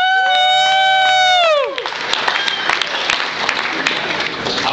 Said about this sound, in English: I want you guys to give it up for the guy in the vest, Derek Sanderson.